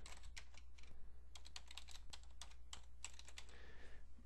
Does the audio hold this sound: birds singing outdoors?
no